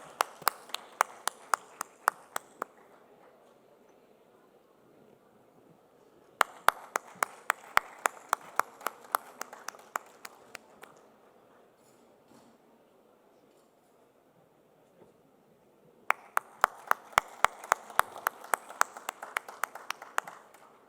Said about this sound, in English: ladies and gentlemen, you're going to keep the claps flowing